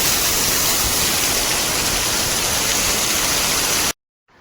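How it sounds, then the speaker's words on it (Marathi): Heavy monsoon rain pours down in a Konkan village as a dense, loud, unbroken hiss that fills the air, then cuts off abruptly near the end. "पाऊस आता जाम जोर झाला पावसाला जोर झाला"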